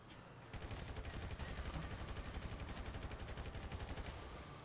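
Sustained automatic gunfire from the video game GTA 5 rattles steadily in a dense rapid burst for several seconds, fairly faint and unbroken, with no talk over it.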